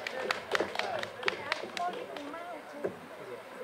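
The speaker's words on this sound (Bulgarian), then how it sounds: "Заповядайте и аплодисменти за тях." Scattered applause from a village audience for a folk dance group, with uneven claps under a voice talking over them.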